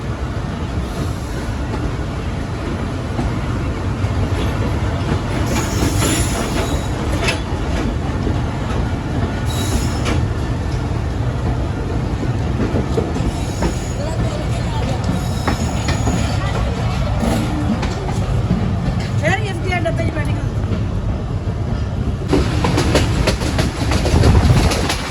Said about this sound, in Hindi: साहब जिनाब एक्सप्रेस के साथ क्रॉस हो रहा है हमारा